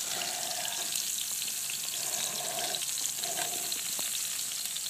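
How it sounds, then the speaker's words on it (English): Salmon fries in hot oil inside a wood-fired brick pizza oven, giving a steady, bright sizzle with crackling spatters and a few soft pulses of hiss layered over it, continuous and fairly close. "that oil is starting to splash a little bit"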